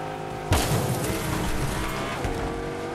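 A car engine in the video game Fortnite roars up abruptly and keeps droning steadily, a loud close vehicle sound with a coarse rumbling texture; the car has a busted wheel.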